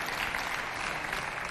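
A studio audience at a Chadian television show applauds in a brief, steady burst of dense clapping.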